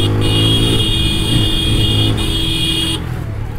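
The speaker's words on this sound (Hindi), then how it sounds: "देख रहे हो भाई कैसे उड़ते उड़ते जा रही है आज बाइक अपनी" A motorbike ridden at full speed on a morning road, a loud steady engine drone with wind rush and a whining tone close by, continuous throughout.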